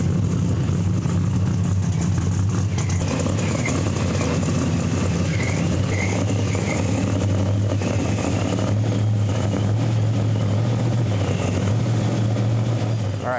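A 1969 Chevrolet Nova pro street engine runs steadily, a loud, continuous low mechanical drone with strong low harmonics that holds without obvious revving throughout.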